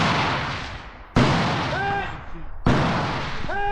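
Rifle fire at a shooting competition: two sharp, loud shots about a second and a half apart, each followed by a long rolling echo and lingering ringing tones.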